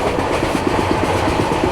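Kerala Sampark Kranti Express running at speed, a steady loud roar of wheels and carriage with a faint repeating clickety-clack rhythm, heard from inside the train without any voices.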